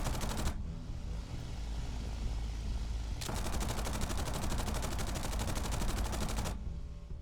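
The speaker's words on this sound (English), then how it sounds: "Captain Norley opened fire from long range but achieved no hits." Aircraft machine gun fire from a fighter attacking at long range: dense, loud bursts of rapid rattling shots in two long strings, the second lasting several seconds, over a steady engine drone.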